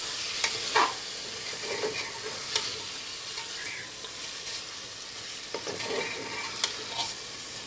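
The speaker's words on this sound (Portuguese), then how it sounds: "Agora eu vou colocar a carne seca. Pra dar um sabor bem gostoso nessa sopa. Deixa refogar mais um pouco." Carne seca (dried beef) sautéing in a soup pot, a steady sizzle with intermittent stirring clinks and scrapes, close and even, no voices.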